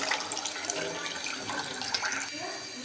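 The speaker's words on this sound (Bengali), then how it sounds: "এখন আমি মাছগুলোও ভালোভাবে ধুয়ে নিতেছি সুন্দর করে" Water runs continuously as fish, rohu for a cauliflower curry, are washed by hand, a steady close splashing flow with irregular bursts of sloshing.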